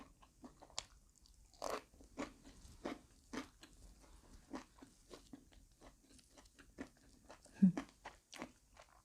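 Crunchy bites of batter-coated deep-fried pork and squid, loud close chewing and crisp crunching repeated in an irregular rhythm, with no talking.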